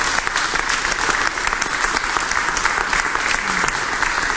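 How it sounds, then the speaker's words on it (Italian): A television studio audience applauds during an interview, with dense, steady clapping from many hands that holds at an even level throughout. "Io vorrei fare un applauso a memoria di suo padre."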